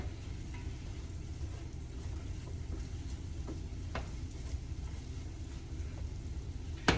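Sliced mushrooms fry in a pan for beef stroganoff, a soft steady sizzle with faint stirring clicks and a sharper scrape near the end, quiet and without talk.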